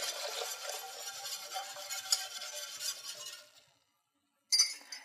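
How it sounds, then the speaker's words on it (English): A whisk stirs cornstarch mixture into hot milk and cream in a pan for Italian gelato, a steady, close, rapid scraping and clinking that stops for a moment, then starts again briefly. "slowly add the cornstarch mixture into it and whisk constantly to incorporate"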